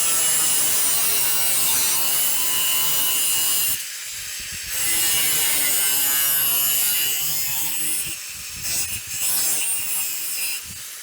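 Sheet metal on the bed side of a 1965 Chevrolet C10 pickup being cut, a loud, harsh, high-pitched grinding screech that runs steadily with brief breaks about a third and three quarters of the way through.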